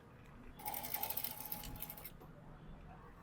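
A sewing machine runs in a steady whir, stitching a blouse seam along a quarter-inch margin, starting after a short pause and continuing close and moderately loud, with brief irregular taps near the end.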